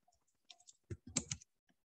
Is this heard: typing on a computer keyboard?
yes